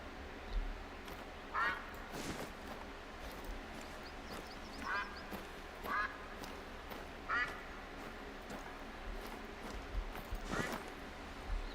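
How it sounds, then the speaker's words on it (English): Ducks quack in short, repeated bursts in the hunting game Call of the Wild, calling at intervals over a steady outdoor ambience with a faint voice in the background. "These are the ducks."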